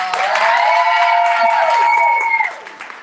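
Crowd at the Becoming More Summit giving a loud round of applause with some cheering, steady clapping that fades out over the last half second.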